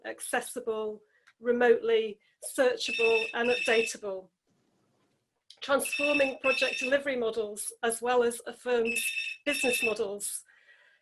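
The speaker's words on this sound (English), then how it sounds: "So apologies if you can hear ringing in the background." A telephone rings in the background, its steady electronic tones repeating in bursts beneath a man's continuous, close lecture-style speech.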